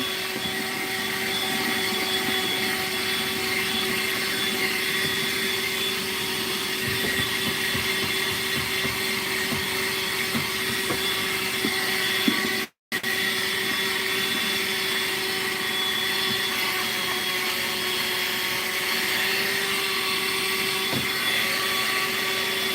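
A vacuum cleaner sucking up sand gives a steady motor hum with a constant whine, broken by one brief cutout midway, then resuming at the same level without speech.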